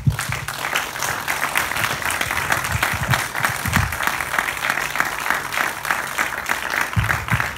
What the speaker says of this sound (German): Das ist dein Applaus.